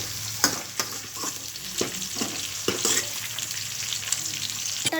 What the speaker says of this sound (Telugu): ఒక 2 మినిట్స్ మిక్స్ చేసుకోవాలి. చూసారు కదా, ఆ విధంగా మిక్స్ చేసుకోవాలి.